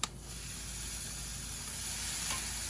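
Marinated pork tenderloin sizzling over direct heat on a Big Green Egg grill, a steady, close, broadband hiss that holds evenly throughout with a faint tap at the start, no talking.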